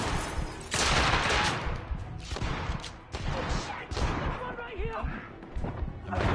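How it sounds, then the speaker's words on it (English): Rapid gunfire rattles continuously at close range in the video game The Order: 1886, bursts and thuds aimed at the player, with someone talking over the shooting throughout. "Oh, I'm getting shot."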